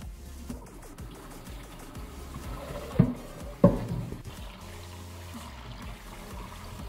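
Water pours into a bowl over shelled walnuts as walnut jam is made, a soft, close trickling and splashing with two louder sloshes partway through and no talk.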